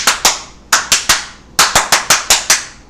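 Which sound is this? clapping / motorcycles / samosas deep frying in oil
clapping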